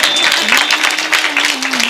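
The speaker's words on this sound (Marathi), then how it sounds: "टाळी वाजवा की." Audience clapping at a Marathi kirtan devotional gathering, a dense steady patter of many hands filling the whole stretch, with a sustained tonal drone or harmonium-like note running underneath.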